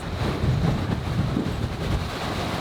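Sail on a solo sailboat flapping in strong wind at sea amid intense waves, a continuous loud rushing and fluttering roar with irregular low buffets throughout, no voices.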